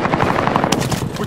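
Rapid automatic gunfire from an STG-44 rifle in Call of Duty Modern Warfare, a loud, close burst of evenly spaced shots rattling for just over a second.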